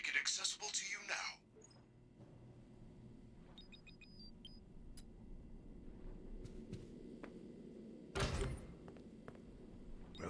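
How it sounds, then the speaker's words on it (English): A mechanical door to a back room opens in Five Nights at Freddy's: Security Breach, a loud whooshing thud midway over a low steady hum, with short electronic beeps earlier and a voice speaking briefly at the start. "There is a button on the wall that will open the door to the back room."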